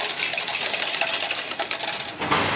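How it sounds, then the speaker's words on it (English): Dollar coins drop from a transit ticket machine in Los Angeles, a fast jangling clatter of metal that runs for a couple of seconds. A sharper burst of clinks comes near the end, close and loud. "They gave us our change in dollar coins."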